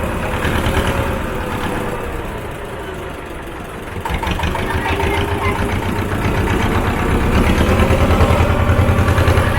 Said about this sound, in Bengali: খাড়ির ভেতর দিয়ে এখন নৌকাটা পুরো ভেতরে ঢুকবে